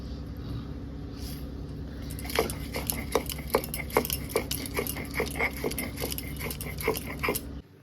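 Poppy seeds with green chili are ground into a paste by hand, a run of sharp rhythmic scraping and knocking strokes starting after a quiet moment, close and fairly faint over a low steady hum.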